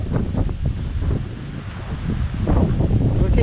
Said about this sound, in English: It's got very windy.